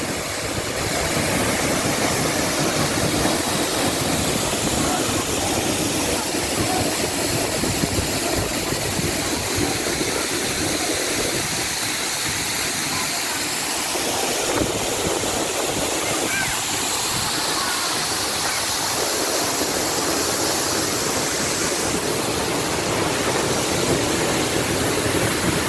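The Sendang Gile waterfall in a forest area roars in a loud, steady, broadband rush that fills the whole stretch, close and continuous.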